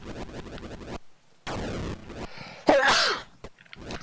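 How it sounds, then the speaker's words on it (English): A person sneezes once, sharp and loud, breaking in over the choppy electronic sound effects of a Joust arcade game running on a Sega Saturn. "I had a sneeze."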